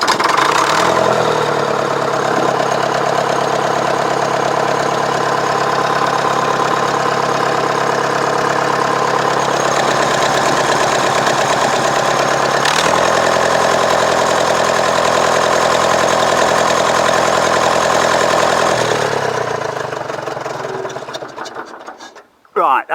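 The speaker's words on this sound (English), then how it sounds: "that was just to let you hear it run" Nuffield tractor engine running steadily at a loud, close idle with a rhythmic mechanical knock, stepping up slightly in revs midway, then dying away before a brief final clunk.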